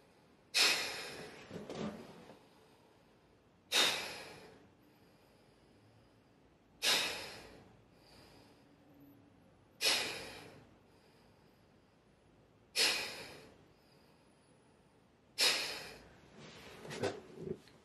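Forceful Bhastrika Pranayama yogic breathing: six strong, rhythmic breaths spaced about three seconds apart, each a loud rushing burst that fades, close and alone with no talk.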